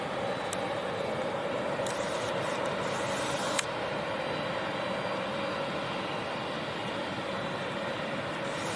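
British Airways planes depart London City Airport, a steady broad jet-engine roar that holds evenly throughout at moderate distance, with a couple of faint clicks.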